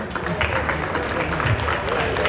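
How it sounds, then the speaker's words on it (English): An audience applauds at a ceremony where staff are honoured with a car gift. The clapping is a dense, steady wash of moderate loudness, with a voice talking over it. "The applause is not loud enough."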